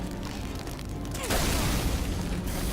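A single heavy gunshot blast from a weapon in the Team Fortress video game goes off partway through, loud and booming, over steady game background noise.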